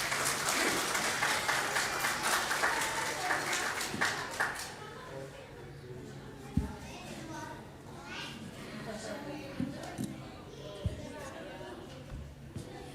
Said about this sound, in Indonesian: Bapak Ibu sekalian tepuk tangan buat Gaby